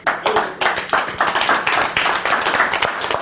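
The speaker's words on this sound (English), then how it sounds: "Give Steve a big round of applause." An audience at a public-speaking seminar gives a big round of applause, a dense burst of close, loud clapping that starts abruptly and carries steadily for a few seconds.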